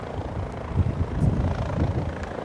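A tour helicopter lifts off near Manhattan in New York City, heard as a distant, low rolling rumble mixed with gusty wind buffeting the microphone outdoors.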